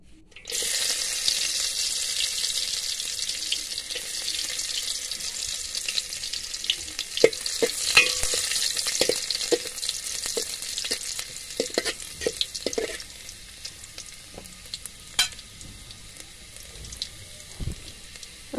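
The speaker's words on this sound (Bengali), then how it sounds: "এখন দিয়ে দিব সামান্য রসুন কুচি।" Chopped garlic sizzles in hot oil in a cooking pot, a steady bright frying hiss that runs throughout, with scattered clinks and scrapes of stirring over it.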